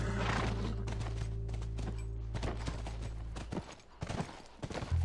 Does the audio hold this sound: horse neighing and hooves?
yes